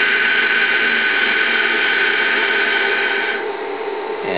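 A mill spindle motor runs at 1400 RPM, a steady, loud electric whine with a buzzy tone that stays constant and then drops slightly near the end, with no voices.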